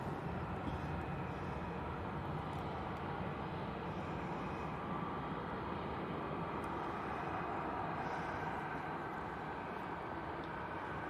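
A steady, low, distant roar of an easyJet airliner arriving from Belfast at Manchester Airport, broadband and continuous without clear peaks, fairly faint.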